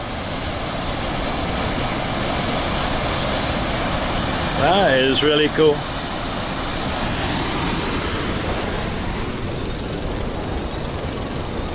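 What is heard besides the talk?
water pouring down a waterfall at Lake Phewa, Nepal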